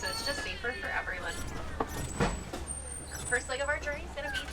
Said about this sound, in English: This is a real truck. I am really driving. The road is bumpy